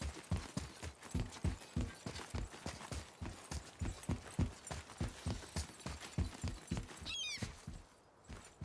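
Horse hooves clip-clop steadily in the video game God of War, a regular rhythmic trot heard up close, with a brief glassy shimmer near the end.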